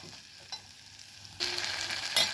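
Ridge gourd stirred through hot tempering in a pan, a soft sizzle that swells louder midway with scraping stir strokes near the end, no voices.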